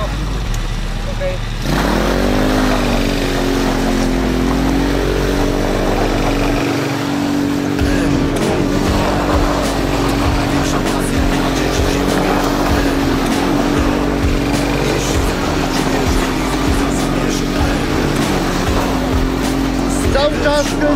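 A Kayo 150 motorbike engine held at steady throttle, a loud continuous drone with a nearly constant pitch that rises briefly at the start, while a person talks over it.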